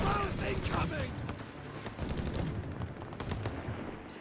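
Machine gun suppressing fire in the World War II strategy game Company of Heroes 3, sharp bursts of gunfire rattling in the mix beneath a commentator talking over the game.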